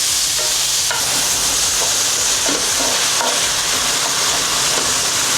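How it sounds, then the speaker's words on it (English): Chopped onion sizzles loudly in a hot skillet, a dense, steady frying hiss close to the listener, with a few faint taps and stirring scrapes mixed in and no talking. "a load of onion over there as well, which is always mightily satisfying when it's thrown in a skillet"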